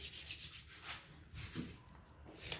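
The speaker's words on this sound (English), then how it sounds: "Warm your hands and stethoscope to rub the hands." Hands rubbed briskly together to warm them before an abdominal examination, giving soft, close swishing friction strokes in a few uneven bursts, quiet and alone.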